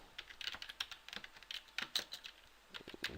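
Computer keyboard typing ABAP code: quick, irregular bursts of soft key clicks close by, with brief pauses between groups of keystrokes.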